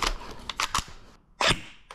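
An airsoft submachine gun firing BBs at a target 85 feet away, a few quick sharp snapping shots in a short irregular burst, fairly quiet and close.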